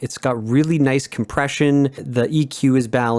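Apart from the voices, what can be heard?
No distinct noise like a dog, phone or traffic.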